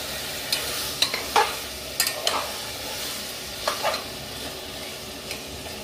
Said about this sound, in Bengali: এরপরে মাংসটাকে ভালো করে নাড়াচাড়া করে দেবো